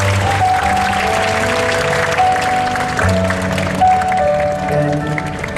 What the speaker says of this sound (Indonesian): Saya minta tepuk tangan yang meriah untuk mereka.